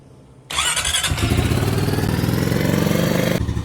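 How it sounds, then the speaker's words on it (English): A 2020 Honda Rubicon ATV engine fired up after an oil change, settling into a loud, steady, close idle that runs throughout, with no talk. "Now we have to let it idle for 3 to 5 minutes."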